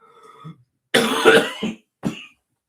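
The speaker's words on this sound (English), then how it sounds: "I thought this cough had gone" A man on a live football chat stream coughs up close: a rough, throaty burst followed a moment later by a shorter single cough, with silence around them.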